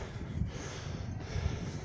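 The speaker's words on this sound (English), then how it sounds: "Still super windy, but we're here." Wind buffets a microphone outdoors in strong gusts, a loud, low rumbling roar with rustling that swells and dips throughout, and no one speaks.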